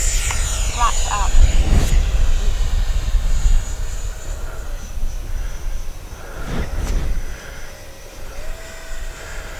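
FMS Futura 64mm RC electric ducted-fan jet flying by, a steady high whine with swelling passes near and far, while someone talks over it.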